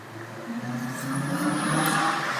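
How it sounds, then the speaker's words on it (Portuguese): Traffic on a street, with an engine hum that swells steadily as a vehicle approaches and passes nearby, with no voices. "Inclusive aqui tá passando um monte de carro de moto."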